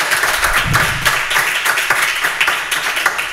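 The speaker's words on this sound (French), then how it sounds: "on va s'applaudir très très très fort pour eux" A school audience loudly applauds lycée students from Saint-Alphonse, dense continuous clapping from many hands close by, steady throughout.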